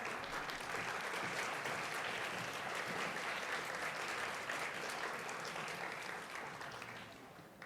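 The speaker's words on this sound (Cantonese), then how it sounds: "我哋再用掌聲恭賀得獎嘅同學" Sustained applause from a sizeable audience at a school graduation ceremony honouring award-winning students, dense and steady clapping that holds for several seconds before tapering slightly at the end.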